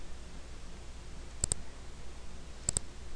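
A computer mouse clicks twice in quick pairs, two crisp double-clicks about a second apart, quiet and close against a faint background hiss with no talking.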